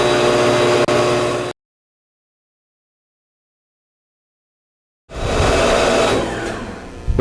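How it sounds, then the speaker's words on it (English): An Electro Arc Model 2-SAC machine burns a hole: a loud, steady buzzing roar cuts out abruptly into near silence for several seconds, then resumes at full strength and runs on to the end. "The machine will continue to burn until it reaches the bottom of the hole"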